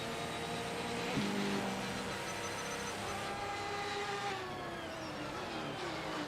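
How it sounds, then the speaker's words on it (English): Loud Porsche race car engine in the Assetto Corsa racing game during a multi-class race, a sustained high-revving whine with rising and falling gear-change sweeps, heard alone without talking. "God, that car is so loud."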